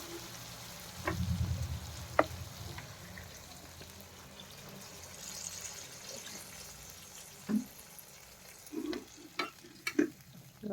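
Water poured into a pan of potol paneer curry sizzles and hisses. Stirring scrapes and clinks follow, with the sizzle settling to a softer bubbling simmer. Close and fairly quiet, with no talk.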